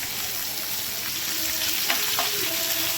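Fish and onion frying together in a wok, heard as steady close sizzling and crackling with a few light stirring clinks.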